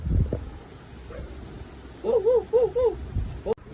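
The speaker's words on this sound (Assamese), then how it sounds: "গাইছ কুকুৰ মাত শুনক" A dog gives four short, whiny, high-pitched yelps in quick succession, fairly close, with a few soft thumps before and after.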